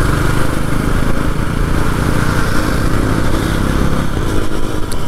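A Bajaj Pulsar NS400 400cc motorcycle engine drones steadily and loudly while riding, with a rough, continuous exhaust note recorded close and no speech.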